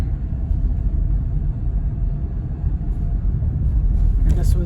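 Inside a moving car on a Michigan country road, a continuous low engine and road rumble drones steadily throughout, loud and close, with no speech heard.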